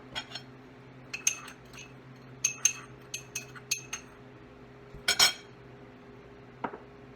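Close, irregular clinks and scrapes of a utensil against a bowl while seasoning and salt are mixed together for pork belly, a dozen or so bright taps spread across the moment.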